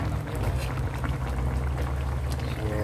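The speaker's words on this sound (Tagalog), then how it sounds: "Lagyan natin ako ng patis." Fish sauce (patis) poured into a cooking dish, a steady, close liquid splash and bubbling that runs without a break for about three seconds, with no voices.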